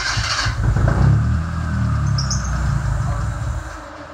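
Engine of a buggy revved hard and held against its rev limiter, a loud, close, steady roar with a stuttering edge that eases off at the end, with no voices.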